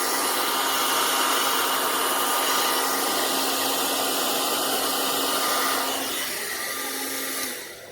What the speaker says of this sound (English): even with a hair dryer, which will lay all of that right out.